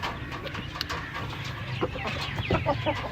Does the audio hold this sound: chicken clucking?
yes